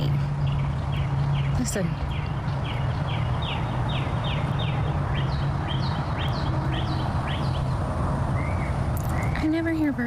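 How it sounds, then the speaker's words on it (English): Birds chirping at midnight, a rapid repeated series of thin, high chirps running steadily beneath a constant background noise, with a voice speaking briefly near the end. "all these birds chirping at like midnight"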